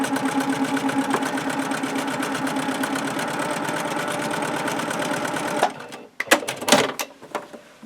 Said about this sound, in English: Now I've got a way to sew that 3rd one on.